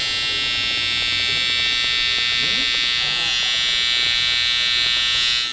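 An electric hair trimmer cutting a fade in a barbershop makes a steady, high buzzing hum throughout, close and even, with no pauses.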